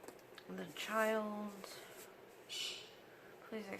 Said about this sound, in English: Please excuse my birds, they are on it today.